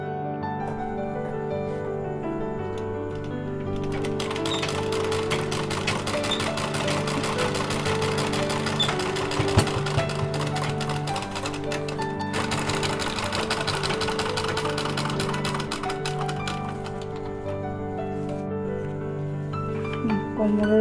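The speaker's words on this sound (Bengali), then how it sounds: "সেলাই করে দেবো।" Sewing machine stitching a fabric waist belt onto a small dress, running steadily and continuously at close range with a dense mechanical whir, rising slightly in intensity partway through; no talking.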